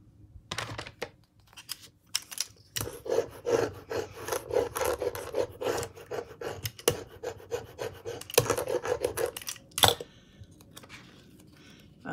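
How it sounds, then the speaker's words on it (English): A brayer rolled firmly over paper to seal a handmade botanical bookmark, giving a run of dry, rasping rubs and scrapes in quick uneven strokes, close and fairly loud, with a few sharper taps. "use my brayer to make sure that it got sealed on real well"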